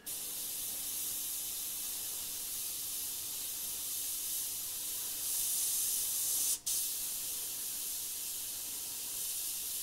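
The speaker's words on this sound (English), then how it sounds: "Again, up nice and close, nice and sharp with the airbrush." An airbrush sprays sepia paint at close range while detailing a steampunk skull, giving a continuous soft airy hiss with one brief break partway through.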